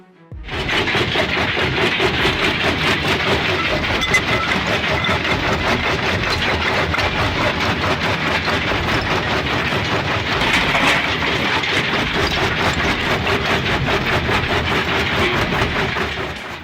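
A Terex Finlay J1175 jaw crusher with a 350 horsepower engine runs steadily, giving a loud, unbroken mechanical roar and rumble that holds constant from start to finish.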